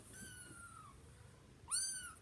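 A pet cat, apparently teething, meows twice indoors: a drawn-out mewing call, then a brief pause before a second, louder and shorter meow close to the microphone, over faint room noise.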